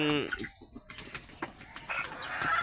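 Chickens cluck and squawk close by at morning feeding time, several short calls in quick succession, one loud squawk at the start, no talking.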